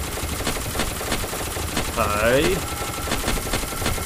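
Machine gun fire in the game SCP Containment Breach, a short burst of rapid shots under steady game ambience, with a voice speaking briefly.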